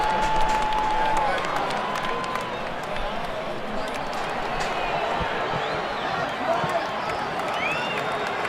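Excited baseball stadium crowd from the video game MLB 2K7 during a World Series game, a steady roaring murmur of cheering fans throughout, with a commentator talking over it.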